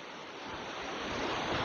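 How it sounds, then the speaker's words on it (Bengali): Rushing water from a waterfall below an apple-shaped rock on a Dooars sightseeing stop, a steady broad roar that swells slightly toward the end, with no talking. "আর এই যে নিচে বস ঝর্ণা"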